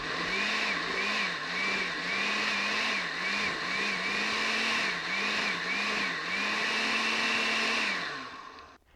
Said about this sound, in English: So I'm just going to pulse it till it gets the consistency I'm looking for.